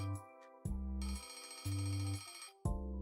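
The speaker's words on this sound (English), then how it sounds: "The familiar noise of Henry's alarm clock announces the dawn of a new day." An alarm clock in a video game trailer rings in repeated bursts, each a bright, sustained metallic jangle separated by brief pauses, fairly quiet and heard alone.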